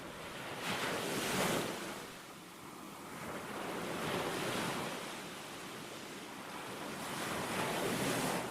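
Ocean waves played as a sound effect in a stage play: a steady, fairly loud wash of surf that swells and recedes in slow surges, alone with no voices.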